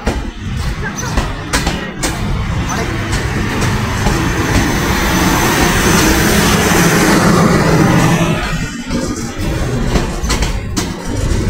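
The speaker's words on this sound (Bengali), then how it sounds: "চাটমোড় স্টেশন থেকে 6 সিটি ট্রেন ঢাকার উদ্দেশ্যে যাচ্ছে।" A passenger train leaving Chatmohar station bound for Dhaka, a loud, steady rumbling roar that swells toward the middle and eases off, with clattering ticks and wind noise close by.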